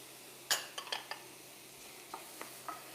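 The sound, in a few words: tomato, capsicum and corn added to omelette filling in pan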